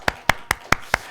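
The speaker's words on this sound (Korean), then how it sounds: "우리 격려의 박수 한번 드리겠습니다." Five sharp, evenly spaced claps ring out in a quick, steady rhythm at a church service after a testimony, close and clear with no talking.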